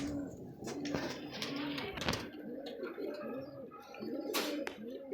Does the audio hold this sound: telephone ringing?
no